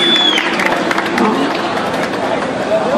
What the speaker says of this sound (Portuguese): Pode aplaudir muito esse esquadrão maravilhoso.